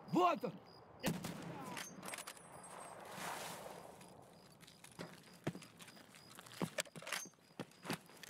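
Scattered gunfire in the Escape From Tarkov video game during a night raid, with several sharp shots and bursts spread irregularly through the clip over a busy background of footsteps and movement.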